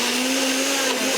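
A kitchen blender whirs loudly and steadily at high speed while juicing, a constant close motor whine with no speech over it.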